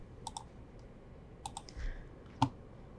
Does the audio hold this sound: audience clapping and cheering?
no